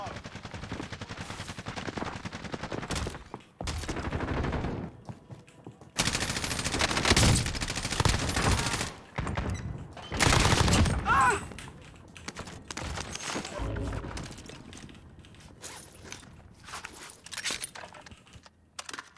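Gunfire from an assault rifle in a first-person shooter video game comes in loud, sustained automatic bursts, with quieter clicking and shuffling between the volleys.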